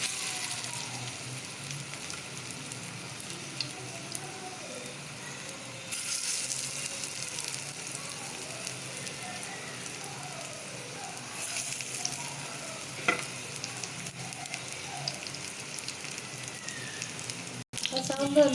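Urundai kuzhambu dumplings pressed flat and set in oil on a dosa griddle give a soft, steady sizzle and crackle, fairly faint and continuous, with a few brief surges in intensity.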